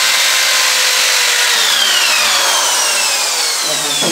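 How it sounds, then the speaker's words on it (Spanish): A drill bores through a wooden frame, giving a continuous loud, close grinding whine that holds steady for several seconds before easing slightly at the end. "Entonces lo unen y lo perforan."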